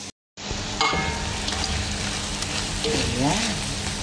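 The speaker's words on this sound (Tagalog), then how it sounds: "Igigisa lang natin ito guys sa sarili niyang oil." Chicken sautés in its own oil with onion and garlic, giving a close, continuous sizzle that starts after a brief silent gap; a faint voice murmurs in the background partway through.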